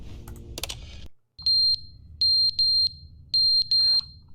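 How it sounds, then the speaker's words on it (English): A fire alarm in The Stanley Parable Ultra Deluxe sounds a shrill electronic beep five times in uneven pairs, loud and close. It follows a brief clatter of clicks and a moment of silence. "Is that the fire alarm?"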